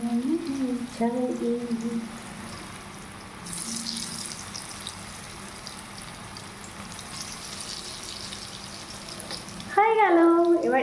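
Lentil fritters (dal bora) frying in hot oil give a steady, close sizzling hiss throughout, with a voice heard briefly at the start and more strongly near the end.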